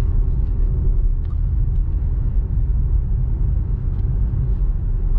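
BMW X3 M Competition, 2021, with the S58 engine, heard from inside the cabin while driving: a steady low engine and road rumble, moderately loud with faint clicks.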